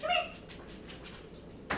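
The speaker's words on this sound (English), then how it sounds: "I hear my dog." Boomer, a pet dog, gives a brief high whine near the start, then a soft scrabbling patter, fairly close. A person speaks briefly.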